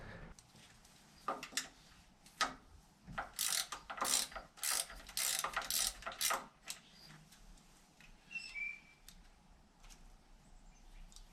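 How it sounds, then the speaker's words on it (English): A hand ratchet works on the fuel pump bolts of a 1964 Plymouth Fury station wagon engine, quick clicking bursts in a dense cluster midway, then quieter, with a faint chirp near the end. "I'll take this fuel pump off so I don't have to take off the fuel lines."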